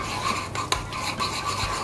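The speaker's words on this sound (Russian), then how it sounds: "Перемешали хорошенько." A spoon stirs sun-dried tomatoes with chili pepper and olive oil in a bowl, giving a close, steady scraping and rubbing with one sharp clink partway through.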